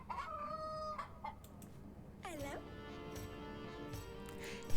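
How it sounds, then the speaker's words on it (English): Rooster crowing in the Yes, Your Grace video game: a single drawn-out call with a tonal rise and long held tail, heard fairly clearly over a quiet background after earlier short harmonic bird-like notes. "Look, it's a cock. A rooster?"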